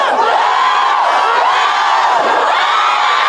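A big homecoming crowd at a high school football game cheers and shouts loudly and steadily, with close whoops rising and falling over the sustained roar.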